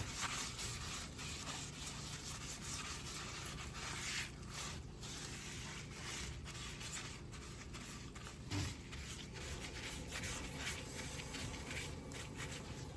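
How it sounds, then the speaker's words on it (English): A big piece of paper napkin rubbed over cod fillets in a pan, a steady, close dry scuffing and rubbing that runs continuously for the whole stretch with small bumps, no talking. "take a big piece of napkin and rub it in, just like so"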